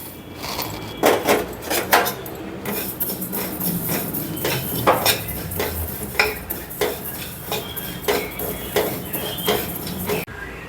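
Cumin seeds dry-roast in a pan while a spoon stirs them. Close, repeated metallic clinks and scrapes come at an uneven rhythm against a soft background hiss.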